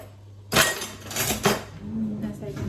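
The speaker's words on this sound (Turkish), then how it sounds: "Ondan sonra şunu bir karıştırayım" A spoon clatters and scrapes against a bowl while a mixture is stirred, starting with a sharp clink and continuing as uneven tapping and rubbing close by, with a voice speaking briefly.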